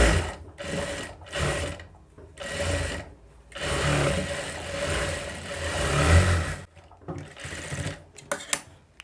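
A sewing machine runs topstitching along a boat neck blouse, loud and close, in several bursts of steady whirring separated by short pauses, with no voices.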